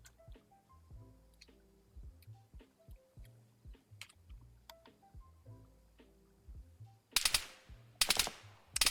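In the Arma 3 video game, gunfire cracks out. Sparse distant pops sound first, then loud close automatic bursts near the end, all over a low rhythmic game soundtrack.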